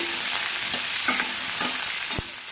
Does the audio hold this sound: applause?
no